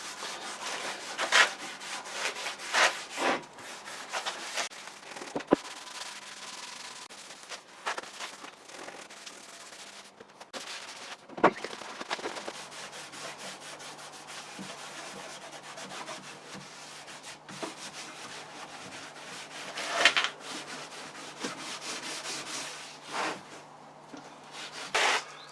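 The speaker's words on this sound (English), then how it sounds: "give it a coat of K brown wax" A wooden bed frame is rubbed down with brown wax, making a long, uneven scrubbing and rasping sound with irregular strokes and brief pauses, quiet and close, with no voices.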